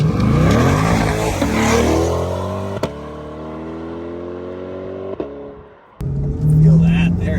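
A Chevrolet Corvette C8 Z51 engine revs up close, rising to a loud roar and then settling into a steady rumbling hum. A sharp clunk follows, then it drops away briefly before surging again.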